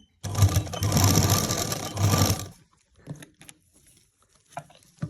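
A sewing machine runs steadily for about two seconds as it stitches a lined kameez, a dense whirring burst that then stops, followed by faint handling of fabric.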